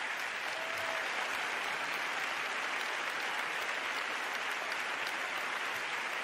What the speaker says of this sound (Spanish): menudos aplausos, ¿eh? El teatro en pie.